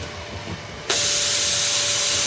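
Compressed air bursts on in an ROV mucker display, pulsing media down a trough. A sudden loud, steady hiss begins partway through and continues without a break after a quieter mechanical background.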